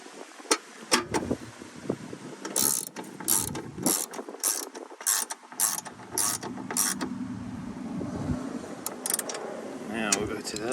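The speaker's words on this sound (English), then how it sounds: "Tighten that center bolt up." A ratchet wrench tightens the center bolt on a vintage Simplicity Wonderboy 606 riding lawnmower in quick, close clicking bursts with short pauses between strokes, and a voice briefly speaks over part of it.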